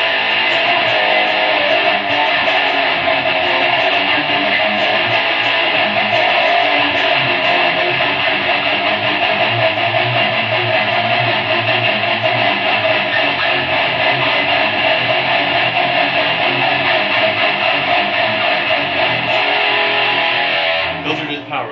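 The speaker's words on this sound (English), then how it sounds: "We call it the power chord because we play it like a chord in most rock music," A distorted electric guitar plays rock power chords in a dense, sustained wall of sound that runs steadily and loudly for the whole stretch before cutting off abruptly.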